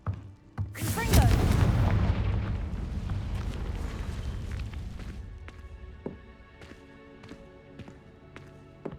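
Confringo, the fiery explosive spell in the video game Hogwarts Legacy, goes off with one loud booming blast that rumbles and fades over several seconds, followed by scattered small impacts.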